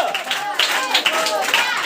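Congregation at an Odia Christian worship service clapping together, a dense burst of hand claps with voices mixed in, fairly loud and close throughout.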